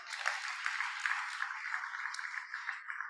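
A crowd at an awards ceremony applauds, a continuous, bright patter of many hands clapping at moderate distance, steady throughout with no talk over it.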